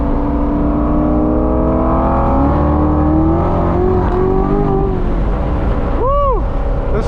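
A Chevrolet Corvette C7 Z06 accelerates hard, its engine note climbing in loud rising sweeps heard from inside the car, with a brief sharp swell near the end.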